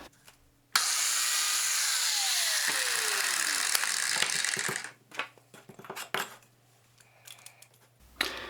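A biscuit joiner cuts a 1/4 inch kerf slot into wood, a loud sustained high whine for about four seconds. It then winds down with a falling tone, followed by quieter handling clatter.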